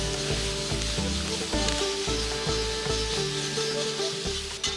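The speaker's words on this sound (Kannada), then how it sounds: "ಸ್ವಲ್ಪ ಕರಿಬೇವಿನ ಸೊಪ್ಪು ಹಾಕ್ಕೊಳ್ತಿದ್ದೀನಿ. ಹಾಗೆ ನಾನು ಮಾವಿನಕಾಯಿ 2 ಮಾವಿನಕಾಯಿನ ತುರ್ಕೊಂಬಂದಿದ್ದೀನಿ, ಹುಳಿ ಮಾವಿನಕಾಯಿನ. ಈಗ ಇದು ಸೇರಿಸ್ಕೊಳ್ಳೋಣ." Curry leaves and grated sour raw mango sizzle in hot oil while making puliyogare, with a steady close frying hiss broken by repeated stirring scrapes and a clatter near the end, no talk.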